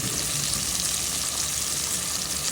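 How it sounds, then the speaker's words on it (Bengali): Prawns frying in a pan with salt hiss in a loud, dense, unbroken sizzle, heard up close. "দিয়ে দিলাম লবণ, ভেজে নেব। দিয়ে দিলাম চিংড়ি মাছ"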